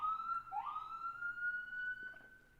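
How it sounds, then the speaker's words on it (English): A siren rings outside, one rising then steady wail, fairly faint and alone without talk. "there's a siren outside"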